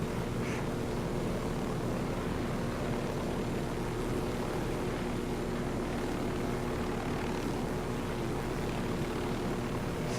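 A helicopter in the video game Ghost Recon Wildlands flies through fog with a steady, loud rotor and engine drone that never lets up, and no one speaks.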